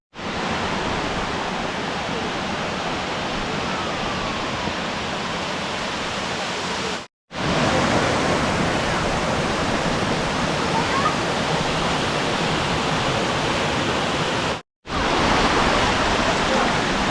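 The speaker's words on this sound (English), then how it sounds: "Now we can finally enjoy this 200-foot waterfall." Arethusa Falls, a 200-foot waterfall in Crawford Notch, New Hampshire, roars as a dense, constant broadband rush with no breaks in the flow, loud and close, with no voices heard.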